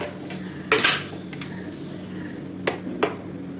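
Metal spoons clink and rattle against a cutlery stand as one is pulled out, a short clatter near the start and two lighter taps later, close and fairly loud in an otherwise quiet kitchen with no talk.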